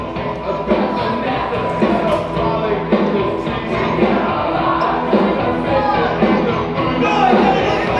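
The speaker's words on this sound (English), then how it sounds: "this crowd is absolutely stunned" Wrestling crowd at a Rose City Wrestling Alliance show reacting as a new world champion is crowned, a dense continuous roar of yells, shouts and whoops that stays loud and close throughout.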